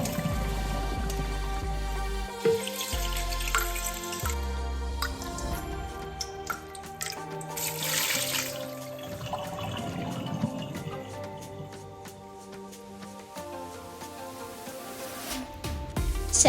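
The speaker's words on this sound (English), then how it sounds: "Once the rice cooked, remove the excess water thanks to a colander" Excess water drains from cooked rice through a colander, a continuous patter and trickle with scattered drips, mixed with clanks and clatters of kitchen utensils and a steady background layer throughout.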